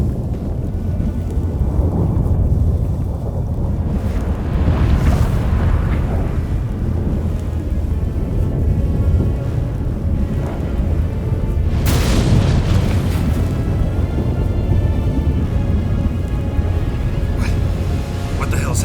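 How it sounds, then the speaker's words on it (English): A sudden storm in The Witcher 3 video game: deep rumbling booms like thunder roll under gusting wind, with a sharper crack swelling partway through, loud and continuous. "That a storm?"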